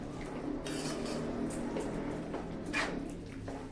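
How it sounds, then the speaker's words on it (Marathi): A spoon scrapes and clinks against a pan while mixed vegetables are stirred in a restaurant-style mix veg dish, with irregular metallic knocks over a steady sizzling background, close and moderately loud. "मस्त पैकी हलवून घ्यायचंय"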